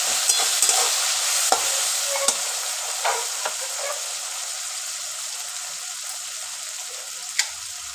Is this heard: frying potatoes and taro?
yes